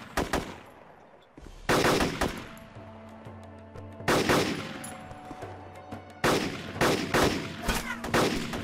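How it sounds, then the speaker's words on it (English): Bursts of automatic gunfire in the DayZ mod for Arma 2, several rapid volleys separated by short pauses, loud and close with sharp attacks and echoing tails. "He's shooting back."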